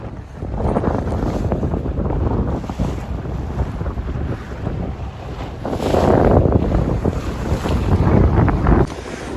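A boat churns along the coast off Yanbu, Saudi Arabia, recorded from the bow, with heavy wind buffeting the microphone and waves rushing past, steady and loud throughout.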